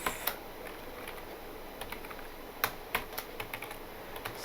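Quiet, rapid keystrokes on a computer keyboard as code is typed, with irregular clicks and taps that come in short bursts, close and alone.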